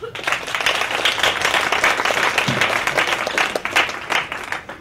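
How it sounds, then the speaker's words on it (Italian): An audience applauding at a live stage event, a full burst of steady clapping from a crowd that carries through and tapers slightly at the end. "Grazie. Un applauso."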